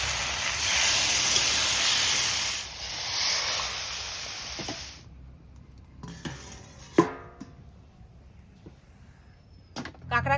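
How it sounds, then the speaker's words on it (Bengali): Water poured into a hot pan of fried winter vegetables and river crab sets off a loud, steady hiss that lasts a few seconds, then cuts off, followed by quieter clinks and scraping of utensils. "ভাজা ভাজা হয়ে গেছে সব এবার জল দিয়ে দিচ্ছি"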